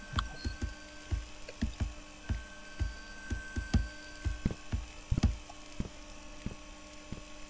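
Footsteps walk away in the video game Locked as a series of soft, evenly spaced thuds that continue for several seconds over a faint steady hum, with no talk.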